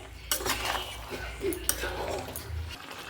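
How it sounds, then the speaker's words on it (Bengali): Spoon stirring meat curry with pre-fried potatoes in a pan, soft scraping and clinks of utensil on metal under a faint low background, close and fairly quiet. "আলুটা দিয়ে দেবো দিয়ে নাড়াচাড়া করতে থাকবো"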